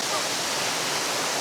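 On the Shizhu Peak hike in Hunan, a waterfall gives off a dense, even hiss of falling water, close and steady throughout this short stretch.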